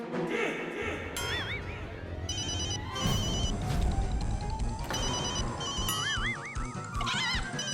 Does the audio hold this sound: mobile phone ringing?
yes